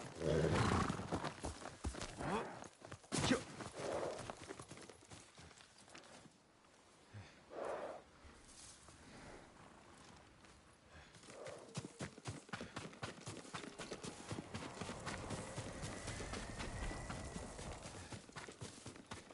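Clip-clop of a horse's hooves walking in the video game Ghost of Tsushima, steady and close, with a whinny and snorts amid background music and ambient noise; a brief quieter stretch midway.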